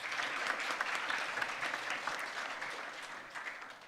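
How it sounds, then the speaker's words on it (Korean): Sustained applause from a conference audience at a maritime economy forum in Busan, steady and dense clapping filling the room for several seconds and tapering slightly toward the end. "박수로 맞아주시기 바랍니다."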